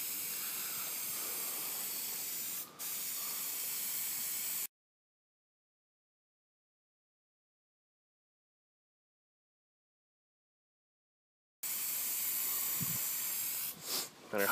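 A paint spray gun hisses in bursts while spraying paint on an Audi A6, a breathy steady spray interrupted by a long silent gap before another burst resumes.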